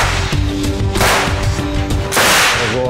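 Loud, close gunshots crack in quick succession at a military shooting range over a noisy, reverberant background, several sharp reports within a few seconds.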